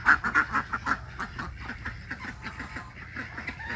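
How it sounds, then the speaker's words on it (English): Farm ducks quacking in a rapid, rhythmic run of calls, loud at first and then steadier, close by and without talk. "They're in with a couple of ducks we plan on keeping."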